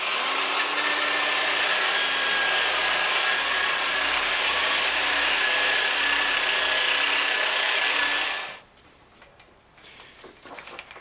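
A power sanding disc polishing an aluminum valve cover gives a loud, steady whirring hum that runs for several seconds and then cuts off abruptly, leaving a faint background.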